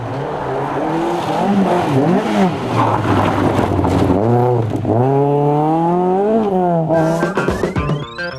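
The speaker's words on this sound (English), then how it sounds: "wheeled out his glorious-sounding ex-Works Football Manta 400" An ex-Works Opel Manta 400 rally car at a rally, its engine revving loudly and up close, rising and falling through repeated sharp throttle blips and gear changes before it pulls away with a climbing whine.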